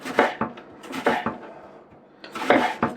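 Sharp knife strokes through a peeled onion on a cutting board, a few distinct crisp chops in quick pairs with short pauses between, close and fairly loud, no talking.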